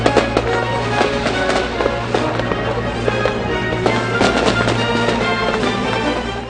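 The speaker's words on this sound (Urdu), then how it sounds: "جشن آزادی پر ہونے والی آتش بازی سے آسمان رنگ و نور سے بھر گیا۔" Independence Day fireworks crackle and pop in dense, irregular bursts over a steady low rumble. The bangs sound close and loud, with no voices.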